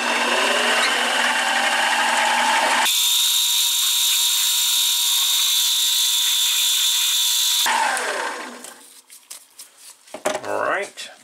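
A milling machine cutting a corner off a steel linear rail, a loud continuous machining whine and grind that holds steady for several seconds before winding down.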